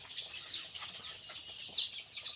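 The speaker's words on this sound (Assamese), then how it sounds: "আমাৰ ঘৰুৱা লোকেল মুৰ্গী হয়।" Local domestic chickens, about 126 days old, kept on a small egg farm make soft, rapid clucks and a couple of higher squawks, faint and continuous from close by.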